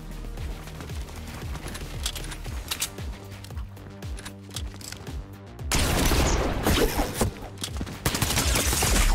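Rapid gunfire crackles through a 1v1 desert zone wars match in the video game Fortnite. Dense, repeated shots rattle on throughout and grow louder and busier in the second half.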